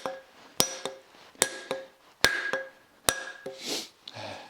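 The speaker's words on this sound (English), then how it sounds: "when I take it off right here and hit it, I can get that sucker flush" A hammer drives a wedge into the head of an axe, with about five sharp metallic strikes, each trailed by a lighter ringing tap, close and loud, followed by some breathing and handling noise.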